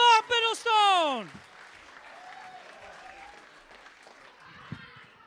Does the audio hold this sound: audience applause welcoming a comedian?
yes